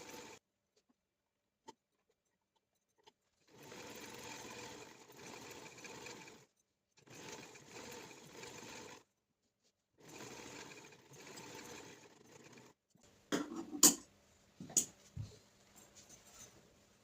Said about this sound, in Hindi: हाफ इंच को तो 2 सिलाइयाँ लगाएंगे 1 पाँव के फासले के ऊपर